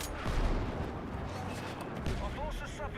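Heavy gunfire and explosive booms roar through a war video game battle, dense and continuous at close range, with sharp bursts layered over a rumbling low-end barrage.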